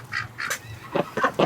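Ducks and geese kept together in a shed on a freezing -10°C day give a run of honking and quacking calls in short irregular bursts, fairly close and moderately loud, with no talking.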